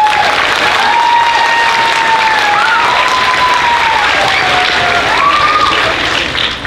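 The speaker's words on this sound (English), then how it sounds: "so round of applause for them." An audience at an 8th grade symphonic spring school concert applauds steadily for several seconds, loud and close, with a few cheers and whistles rising above the clapping.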